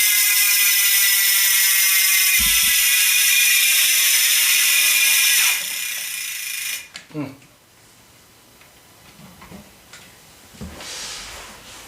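Carbon-spoke bicycle wheels with steel bearings spin on the freewheel hub, giving a loud, fast, steady ratcheting buzz for several seconds that then cuts off, followed by a few quieter clicks and handling knocks.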